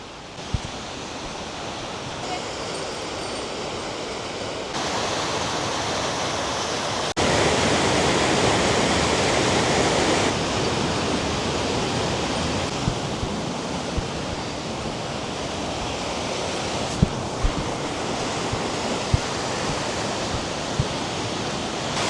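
A rural Japanese waterfall swollen with muddy runoff after weeks of rain roars as a loud, steady broadband rush, continuous and close, with no voices.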